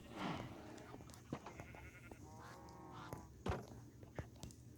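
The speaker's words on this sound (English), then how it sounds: "My sheep." Wavering video game sheep bleats, a few quiet calls spread across a low background drone with occasional soft thumps.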